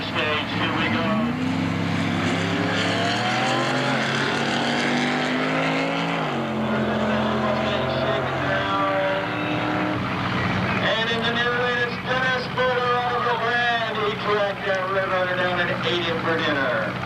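Drag racing cars at the 1997 Wildhorse Gambler's Choice Classic launch down the strip, their loud engines climbing and sweeping in pitch for several seconds while voices carry on through the roar.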